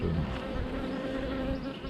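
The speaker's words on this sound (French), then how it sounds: "Bonne petite abeille." Dense, steady buzzing of many honeybees close by at a hive, a continuous droning hum with no pauses.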